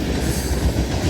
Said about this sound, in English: Another rubbish train.